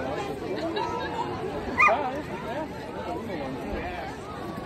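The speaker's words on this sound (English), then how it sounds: "Here's a little chihuahua." A little chihuahua gives a short bark at a Fourth of July pet parade in Bend, Oregon, a single yap amid steady crowd chatter and nearby voices.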